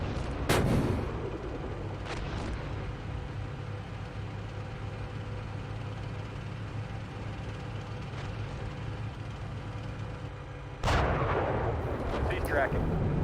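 Heavy artillery fire in an online tank battle game, a sharp loud blast at the start and another near the end, with a low rumbling engine drone between.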